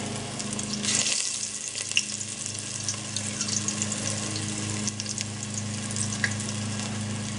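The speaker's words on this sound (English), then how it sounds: "the dandelions right into the batter into the oil" Gluten-free dandelion fritters dipped in batter and fried in oil, a steady quiet sizzle and crackle with a few brief louder pops and spatters, no talking.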